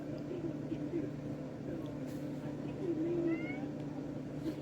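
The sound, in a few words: cat meowing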